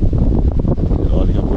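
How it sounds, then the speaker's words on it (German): Strong headwind of about 30 km/h buffets the microphone while paddling antique folding kayaks on the Elbe, a loud continuous low rumbling roar throughout. "Dafür haben wir ungefähr 30 km Gegenwind."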